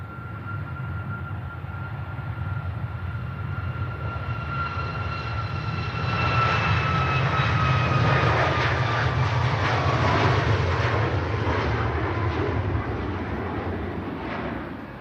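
A General Electric CF6-powered Airbus A330 departing the airport, its engine roar swelling from a steady rumble into a louder, whining surge, heard at a distance without voices.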